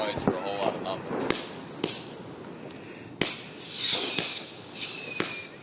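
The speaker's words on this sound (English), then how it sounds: "These are like the free fireworks you get for buying the big ones." Small giveaway fireworks pop outdoors at night in a few sharp, separate cracks, followed by hissing, whistling bursts near the end, with people's voices faintly in the background.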